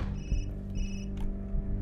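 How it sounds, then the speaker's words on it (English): An electronic ringing repeats in two spaced bursts over a loud, steady low hum in the cyberpunk horror video game Observer; no voices are heard. "What is ringing?"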